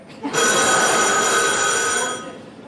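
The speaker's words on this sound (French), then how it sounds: "Quand le téléphone sonne" Telephone ringing with a loud, bright electronic bell trill sustained for nearly two seconds, then fading out, heard alone without talk.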